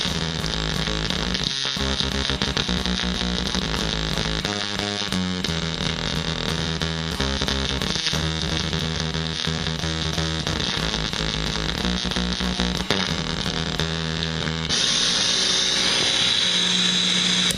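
Devi Ever Rocket Mangler guitar pedal running only its chaos circuit with the drone off, producing a loud, continuous, harsh distorted guitar tone with sputtering, broken-speaker fuzz, alone without any talk.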